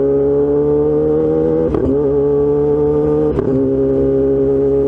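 A Kawasaki ZX-10R sportbike drones along at a steady engine note while riding, its harmonic hum loud and close, broken twice by brief rev shifts as the throttle changes, with no speech.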